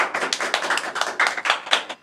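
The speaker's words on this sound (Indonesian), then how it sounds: "Yuk kita tepuk tangannya!" A small group at a Honda Doeloe Club gathering claps hands, a close, uneven patter of individual sharp claps with brief dips between bursts.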